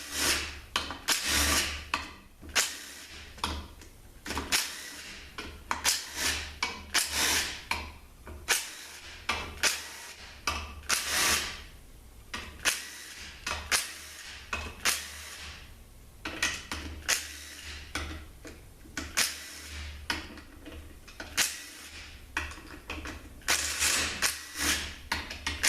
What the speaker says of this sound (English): now I'm going to take all the 8mm bolts out